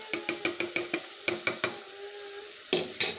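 Whole cloves, cumin seeds and black peppercorns being fried and stirred in a pan, with a quick series of sharp spoon-against-pan knocks over a soft sizzle, close up, then a pause and two louder scrapes.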